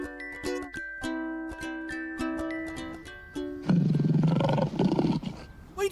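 A lion at a zoo lets out a loud, sustained roar that bursts in over playful music, rumbling close and full for a couple of seconds.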